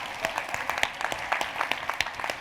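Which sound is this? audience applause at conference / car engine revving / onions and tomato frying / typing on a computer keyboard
audience applause at conference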